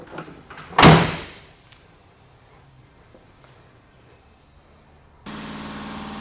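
One loud, sharp car door slam from a 2022 Ford F-150 XLT pickup is heard close by, followed by a quiet stretch. Near the end a steady electronic tone or hum sets in.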